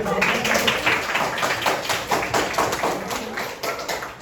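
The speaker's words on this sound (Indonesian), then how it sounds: "Tepuk tangan dulu dong." Hands clapping in an audience at a school event in Gorontalo, a steady patter of claps close by that thins toward the end, with no talk over it.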